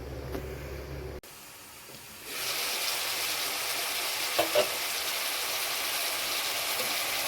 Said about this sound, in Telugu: ఇప్పుడు మూత పెట్టుకొని కాసేపు ఉడకనిద్దామండి.